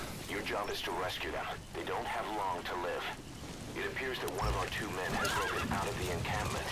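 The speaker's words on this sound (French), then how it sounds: "Cheval." Horse in the Metal Gear Solid V video game neighing and whinnying amid rain and game effects, with someone talking over it.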